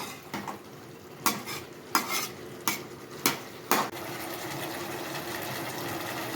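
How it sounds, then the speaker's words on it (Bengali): A spoon stirs chicken curry meat in a pan over a low flame, striking the pan in a handful of evenly spaced clacks before settling into a steady, gentle sizzle. "মাংসটাকে কিন্তু এভাবেই লো ফ্লেমে নেড়ে চেড়ে যেতে হবে।"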